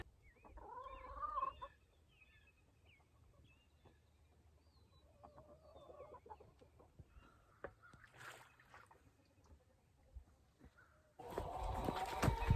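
Several hens cluck and squawk close by, with soft murmurs between, then a burst of rustling and clattering toward the end.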